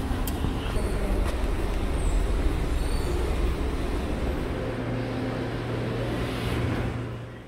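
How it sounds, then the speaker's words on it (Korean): Dense, steady low rumble and hiss of early morning rail and traffic surroundings on the way to the first weekend subway train in light rain, continuous and loud before easing off at the end. "이른 아침 지하철 첫 차를 타러 가고 있습니다"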